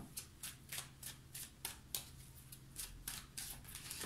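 Tarot cards shuffled by hand at close range, a steady quick rhythm of soft riffling slaps about three per second, quiet and without talking.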